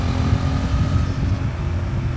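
Honda Transalp motorcycle on a test ride, a loud, steady low engine drone with a rough, throbbing rumble heard close up throughout.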